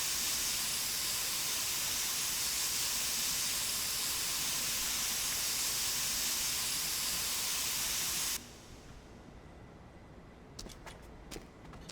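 A spray paint nozzle in the video game Spray Paint Simulator gives a loud, steady hiss that stops abruptly partway through, followed by a few faint clicks.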